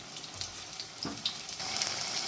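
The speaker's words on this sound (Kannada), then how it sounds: "ಒಳ್ಳೆಯದಾಗಿ 2 ಸೈಡ್ ಕೂಡ ಫ್ರೈ ಆಗಬೇಕು." Mirchi bajji, batter-coated green chillies, fry in hot oil with a continuous close bubbling sizzle, dotted by faint light crackles and pops.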